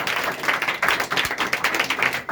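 A church congregation claps together in a steady, rhythmic beat, loud and close, a sustained run of many hands with no talking.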